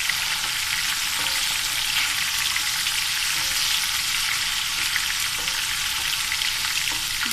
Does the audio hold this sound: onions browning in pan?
yes